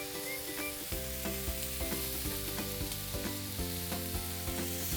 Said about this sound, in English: let's get our onions on the grill. And our tomatoes